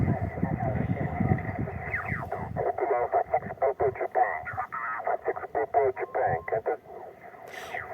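Amateur radio contest stations on a shortwave band are received on a radio from the autumn Carpathians, with rapid overlapping voices and chirpy tuning sweeps through crackly static.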